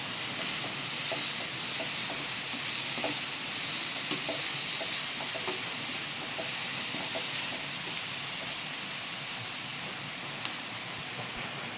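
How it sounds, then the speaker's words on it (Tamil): Chopped onions sautéing in a pan with turmeric powder while making Nagercoil-style nethili fish stir-fry, a steady close hiss and sizzle running throughout with faint scattered crackles. "இப்போ ஓரளவு இந்த வெங்காயம் வதங்கி வந்தாச்சு"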